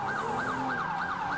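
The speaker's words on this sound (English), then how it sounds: "those sirens passing at a high rate of speed sound so good" Wailing electronic emergency sirens in a GTA roleplay game, rising and falling in a steady repeating sweep, loud and close as vehicles race past at high speed.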